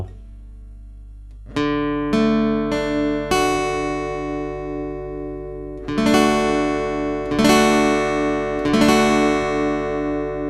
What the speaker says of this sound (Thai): นี่คือเสียงของคอร์ดดีนะครับ